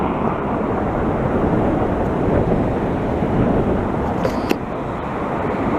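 A Lufthansa Airbus A340 four-engine airliner passes near Montreal, a continuous broad jet roar holding steady throughout, with brief faint ticks and no talking.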